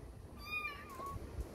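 A person imitates a kitten's meow in a single high, thin, wavering call lasting about a second, close to the microphone with no other talk.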